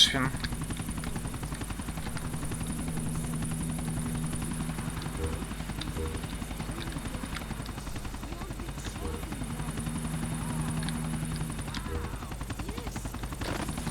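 A helicopter's rotor thrum drones steadily through a GTA 4 The Ballad of Gay Tony mission, with faint bursts that may be gunfire and someone talking over it.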